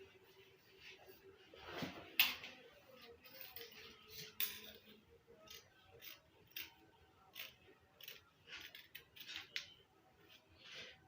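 Scissors cutting fabric for an A-line gown, heard as soft close snips and rustling patter in irregular bursts, one sharper crunch near the start, quiet overall.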